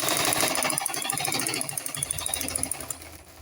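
A sewing machine stitches a front-slit long skirt with full lining, running in a steady, fast mechanical chatter close by for the whole stretch and easing off slightly near the end.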